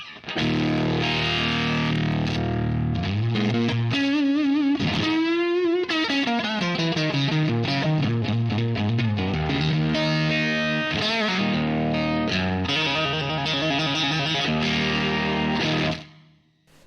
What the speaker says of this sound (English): Let me just increase the fuzz on the fuzz.